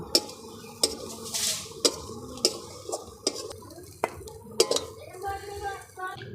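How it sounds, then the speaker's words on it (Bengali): Yardlong beans fried until reddish in a pan, stirred with a utensil, giving repeated sharp scrapes and clinks against the metal over a soft sizzle, then lifted out. "বন্ধুরা আমাদের বটবটি ভালো করে লাল লাল করে ভাজা ভাজা হয়ে গেছে, এবার নামিয়ে নেব"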